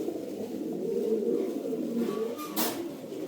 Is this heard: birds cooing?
yes